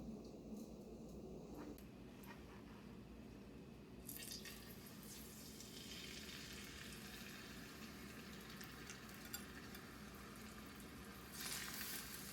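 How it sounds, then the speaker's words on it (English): Seasoned chicken pieces searing in a little olive oil in a hot pan, a steady low sizzle and crackle that swells at a few points and continues without any talk. "I'm just going to go ahead and sear these on both sides for a couple of minutes just to give it a nice color."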